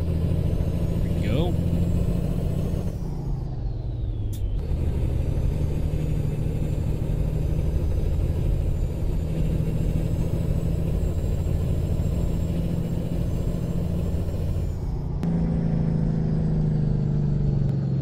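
Truck engine in American Truck Simulator idling with a steady, low diesel rumble that runs unbroken throughout, its tone shifting briefly near the start and again toward the end.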